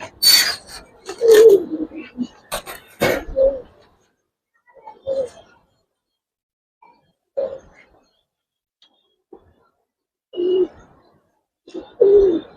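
Pakra Janjira pigeons, silver and coloured birds in a cage, give soft throaty coos in separate bursts with quiet gaps, close by, plus a few sharp rustles or flaps early on.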